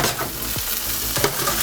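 Purple sprouting broccoli sizzling in a hot frying pan beside a pork steak, a loud, steady crackling hiss with occasional stirring scrapes, close up and with no talk.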